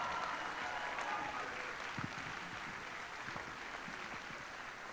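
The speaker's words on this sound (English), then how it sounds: "A huge round of applause for them." Audience applause for the music faculty at a school pops concert, a steady faint wash of clapping from a distant crowd, with a brief voice partway through.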